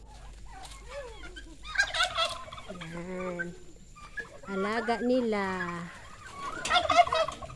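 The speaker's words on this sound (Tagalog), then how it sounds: "Ngadto daw kami sa mga pabo." Domestic turkeys kept at a countryside home gobble in bursts of rapid, wobbling calls, several in a row, while a person talks briefly nearby.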